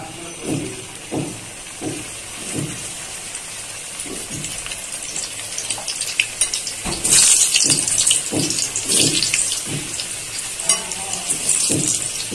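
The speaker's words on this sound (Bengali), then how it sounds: "এবার এই তেলে আমি আলুটাও একটু ভেজে নিই" Potatoes frying in hot oil for a Bengali chicken curry crackle and sizzle up close, with rhythmic stirring knocks and scrapes repeating throughout.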